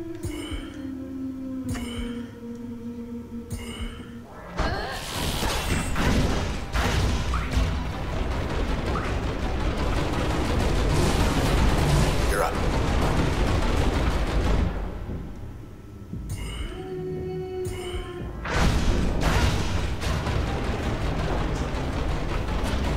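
Loud, sustained rumbling blasts and crashes roll on for several seconds, with quieter pauses before and after, like a string of explosions in the video game Transistor.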